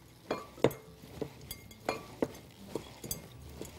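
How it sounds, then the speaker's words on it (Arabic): A utensil stirs melted dark chocolate and egg for chocolate truffles, clinking against the bowl in about eight sharp, scattered taps over a soft scraping texture, close and fairly quiet, with no voices. "هخلط الكلام ده كويس جدا"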